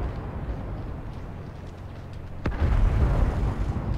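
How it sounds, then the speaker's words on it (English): A bomb explodes in World of Tanks during a Convoy game mode match: a sharp, loud blast strikes partway through, then a heavy rumbling roar follows over the steady background of the game. "Bombs just to the north of the Mark 1."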